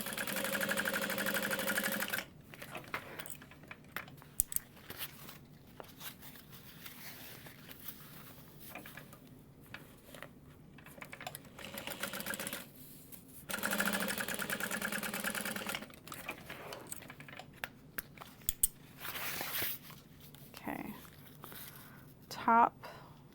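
A sewing machine stitches a seam on a tote bag in short, steady motor-driven bursts that start and stop several times, with a person talking between and over the runs.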